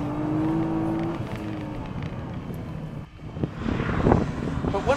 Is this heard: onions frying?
no